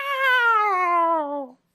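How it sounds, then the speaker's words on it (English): A single long, drawn-out cat meow from the 1981 film The Black Cat, clear and fairly loud, sliding downward in pitch before cutting off, with no other sound behind it. "As soon as the first meow comes out"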